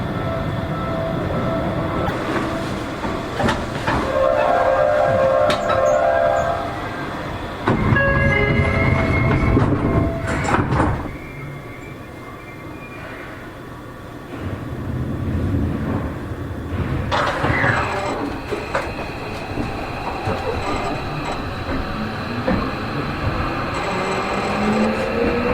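A Seibu 40000 series electric train pulls away from the platform on a local run, its VVVF inverter motor whine rising in pitch over rumbling wheels and rail clatter, close and steady throughout.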